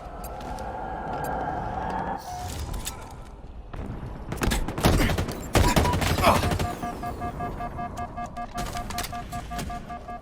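Weapon fire in the multiplayer video game Halo Infinite, bursts of rapid shots and sharp blasts with an explosive crack midway, over a busy mix of game effects and a voice talking.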